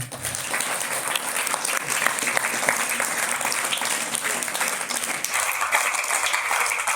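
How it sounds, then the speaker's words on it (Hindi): Loud, sustained applause from a crowd of students and staff welcomes guests at a school assembly, dense clapping running steadily throughout at close range. "जोरदार तालियों के साथ"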